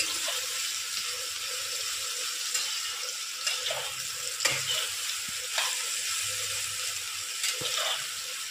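Soybean chunks fry in hot oil with a continuous bright sizzle, fairly steady and close, punctuated by a few faint clicks and stirring knocks.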